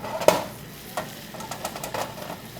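A spoon scrapes and clinks through a pan of cooking sauce in a restaurant kitchen. The sauce has bay leaves, garlic and rosemary in it. A few light, close scrapes over a faint sizzle, with no talking.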